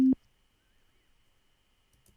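A short, loud, steady low sine wave test tone sounds once for a fraction of a second, then cuts off into near silence.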